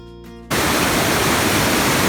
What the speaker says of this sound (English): Beautiful water flow happening